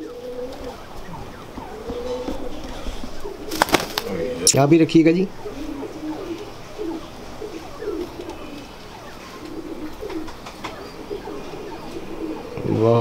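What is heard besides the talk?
Sialkoti blue-tailed pigeons cooing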